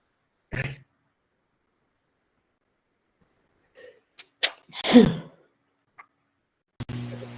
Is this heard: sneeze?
yes